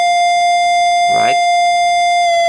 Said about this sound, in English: This is sine wave from the micro LFO.